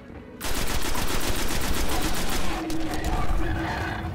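A Gatling gun in the shooter game Destiny fires a loud, continuous rapid stream of shots close by, with a brief shift in tone partway through the burst.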